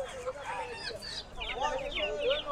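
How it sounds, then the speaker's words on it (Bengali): Local roosters and hens at a busy riverside village market on the Shitalakshya bank cluck and squawk repeatedly at close range, mixed with people talking nearby. "এখানে আছে মোরগ মুরগি।"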